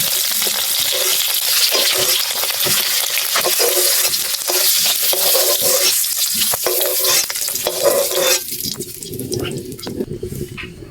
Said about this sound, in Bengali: ডিম প্রায় ভাজা হয়ে গেছে, 2-3 মিনিট ভাজলে যথেষ্ট।